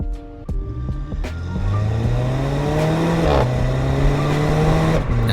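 A nine-year-old Mercedes-Benz C300 engine in Sport Plus mode revs hard and climbs in pitch as it accelerates, loud and throaty, with a steady drone holding through the run.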